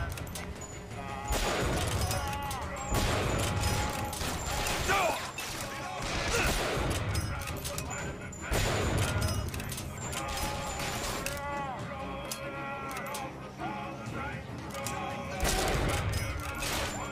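Repeated bursts of gunfire in the shooter game BioShock Infinite, loud and dense with crashing impacts and game music, heard in clusters across the clip with little pause.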